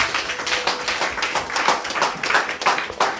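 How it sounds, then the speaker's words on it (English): A church congregation clapping for Jesus during a service, a steady run of many hands clapping together, close and moderately loud with no voices over it. "Can we clap for Jesus?"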